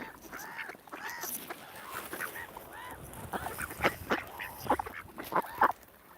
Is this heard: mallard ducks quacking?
yes